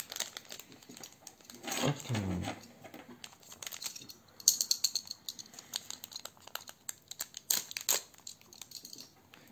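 A box cutter slices through the plastic-wrapped packaging of a Pokémon 25th-anniversary Elite Trainer Box, giving close crinkling, scraping and tearing noises in irregular bursts, with a brief spoken word.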